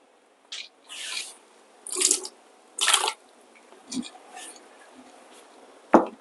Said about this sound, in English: let me just pour away the hot water